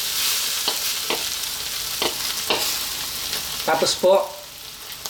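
Beef sizzles steadily in a hot pan while Spicy Beef Adobo cooks, a continuous bright frying hiss broken by a few spoon scrapes and clatters near the end, with a brief spoken phrase.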